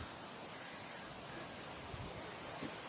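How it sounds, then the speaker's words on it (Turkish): A waterfall in a mountain forest gives a steady, broad rushing roar that stays constant and fairly faint for the whole stretch, with no voices. "Şelalemiz arada akıyor."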